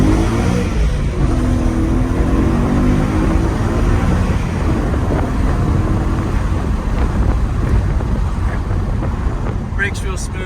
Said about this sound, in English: it sounds really good for a stock car